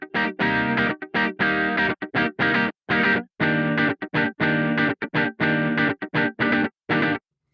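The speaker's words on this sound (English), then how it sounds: "That is an electric guitar." An electric guitar strums short, choppy chords in a quick stop-start rhythm, each burst loud and gritty with effects before cutting to silence.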